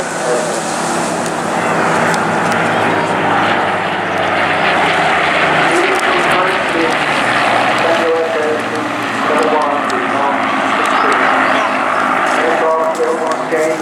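Spitfire piston engine droning loudly during a Battle of Britain Memorial Flight pass at an Eastbourne airshow, a dense continuous roar with slowly shifting pitch, heard under a commentator's voice over the loudspeakers.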